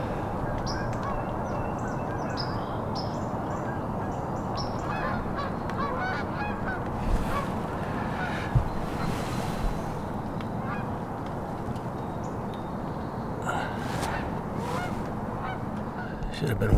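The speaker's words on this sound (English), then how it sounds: "Should have been waterfowl hunting today, although geese aren't in. But they're flying like crazy." Flock of geese honks while flying overhead outdoors during hunting season, a dense chorus of overlapping calls above a steady wind-like roar, continuous and moderately loud throughout.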